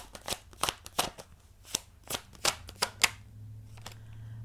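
Tarot cards being shuffled by hand, heard as a quick run of crisp riffling and slapping bursts, close and fairly quiet, with no talking over them.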